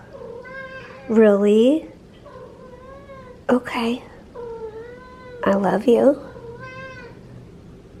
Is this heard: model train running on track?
no